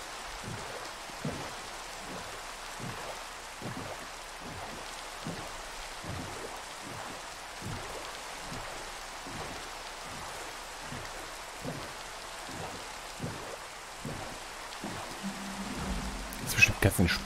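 Steady rain pattering and splashing in Minecraft, a continuous even wash with regular soft pulses throughout, and a few louder clicks near the end.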